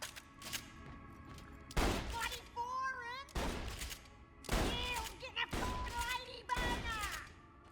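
Scav shotguns blast repeatedly in the video game Borderlands: The Pre-Sequel, with about six loud, punchy bursts spaced out over several seconds, and a gun voice chattering between the shots.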